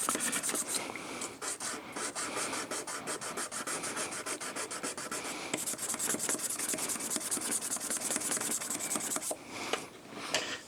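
An old knife blade is sanded to strip gunk and metal, producing a continuous close, loud abrasive rasp of rapid strokes that barely lets up, easing slightly near the end.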